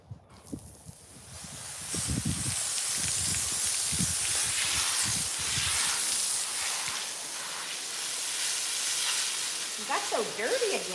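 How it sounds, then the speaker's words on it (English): A hose sprays water to rinse off a horse, a steady loud hiss that starts after a brief quiet moment, with scattered splashes and dripping underneath and a few faint squeaky sounds near the end. "I'm going to rinse him off"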